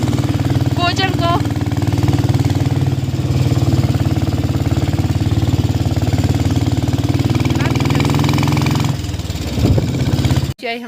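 A motorcycle engine drones loud and steady through a bike ride to a friend's house in Kullu, a constant rumbling hum that dips near the end, with a brief voice at the start.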